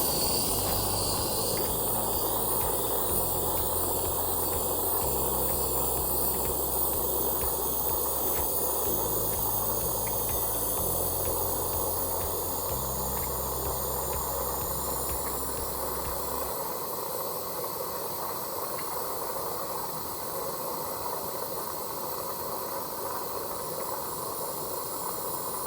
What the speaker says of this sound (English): I'm going to point the tip of the blue flame onto the solder